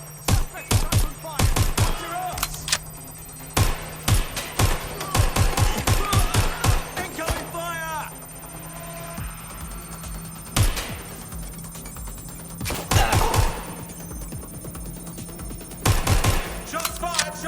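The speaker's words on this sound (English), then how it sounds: "Shots fired! Shots fired!" Gunfire in Watch Dogs Legion, loud sharp bursts of rapid shots in quick clusters, broken by quieter stretches of ambient hum and distant commotion before more volleys erupt.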